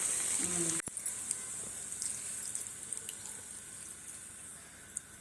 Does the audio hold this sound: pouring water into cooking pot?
yes